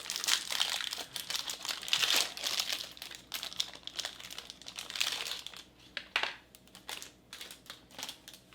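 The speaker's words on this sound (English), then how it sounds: "I forgot to get some crackers out of the package." Crackers crinkle as their package from a Russian 24-hour military ration is opened, with close, dense bursts of crackling plastic that come in waves and then thin out into scattered rustles.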